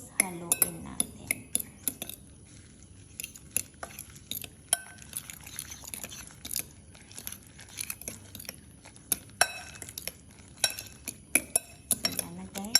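Utensil stirring a mushroom omelette mixture seasoned with salt and white pepper in a bowl, a series of light clinks and taps against the dish at an uneven pace, with faint voice in the background.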